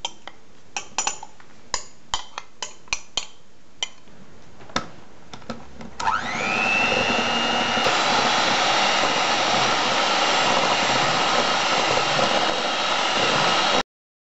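An electric mixer whips cake batter for a two-tone kefir cake, starting with a few sharp clinks of utensils against a bowl, then a steady loud whir that runs for several seconds and cuts off abruptly.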